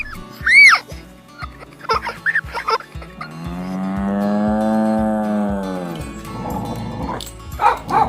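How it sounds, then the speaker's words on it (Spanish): A cow gives a long, loud, close moo, framed by several sharp dog barks and yips before it and a child's burst of laughter near the end, with no other talk. "¿Habéis reconocido mugidos de vacas, ladridos de perros y hasta un niño partiéndose de risa?"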